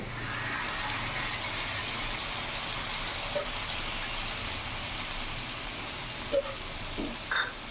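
Water from rinsing a mixer bowl poured into a pot of aloo dum with cauliflower, a steady soft watery trickle and splash with a few faint clinks near the end.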